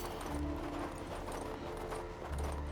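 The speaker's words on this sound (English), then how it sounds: "Come on, mount up. I picked out the very bestest horse for you." Horse hooves clip-clopping at a steady walking rhythm in the video game King's Bounty 2, close and fairly quiet over an ambient game background, with no talking.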